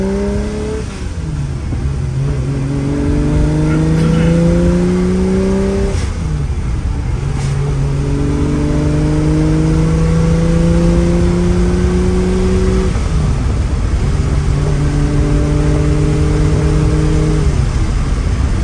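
A 1968 Ferrari 365 GT 2+2 engine pulls hard on an open road, heard from inside the cabin. It climbs steadily through several gears, each rising whine dropping back sharply at a shift, loud and continuous with no talking.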